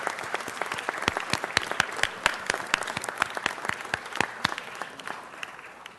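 Audience applause at a city council meeting honoring staff who stand for recognition, a sparse, uneven patter of distinct hand claps from a modest crowd, steady and moderately loud throughout without talk.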